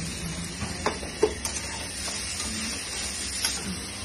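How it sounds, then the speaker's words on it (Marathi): Potatoes with salt being stirred in a Healux frying pan while cooking soyabean biryani, a steady sizzle under scattered scraping taps of the spoon against the pan, close and moderately loud with no talking. "बटाट्यामध्ये सॉल्ट मिक्स होईल"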